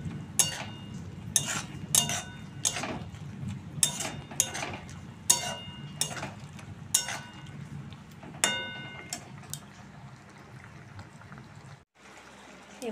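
A spoon stirs turmeric into food in a cooking pan, with about a dozen sharp metallic clinks and scrapes in an irregular rhythm over a soft sizzle, close by.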